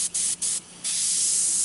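An airbrush sprays white automotive paint in short bursts, three quick hissing blasts with brief gaps, then a longer continuous spray.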